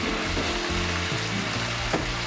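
Chinese broccoli and pork belly stir-fry in a hot pan with loud, continuous sizzling and scraping stirring strokes, close and with no talking.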